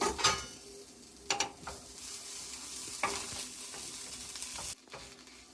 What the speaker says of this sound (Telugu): ఇప్పుడు మూత తీసి కలుపుకుందాం